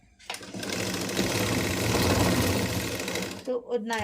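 A sewing machine stitching a pleated nighty runs in one steady, loud, close whir for about three seconds, then stops, and a voice briefly speaks.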